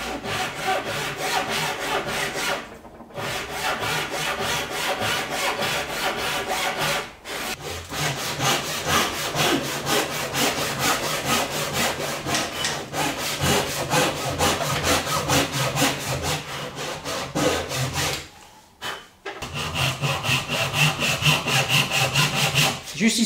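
Japanese hand saw cutting wood for a Roubo workbench top, steady back-and-forth rasping strokes, close and loud, continuing for long runs with a few brief pauses.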